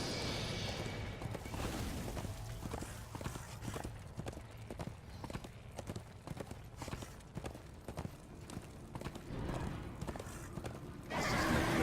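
In the video game Darksiders 2, a horse's hooves beat a steady, even clip-clop rhythm throughout, with a neigh and a sudden swell of noise near the end.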